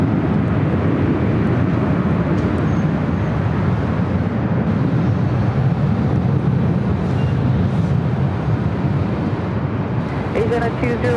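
An Air New Zealand Boeing 777-300ER in All Blacks livery arriving on runway 25 left at Los Angeles International Airport, a steady loud jet roar with wind buffeting, far-off radio chatter faintly under it.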